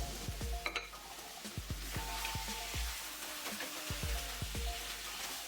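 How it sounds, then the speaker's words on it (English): Fried crabs sizzling in masala in a pan, stirred with a spatula: a steady frying hiss with repeated scraping knocks of the spatula against the pan, close and clear, no talking. "gently slide in the fried crabs and stir well with a spatula till it is coated well with the masala"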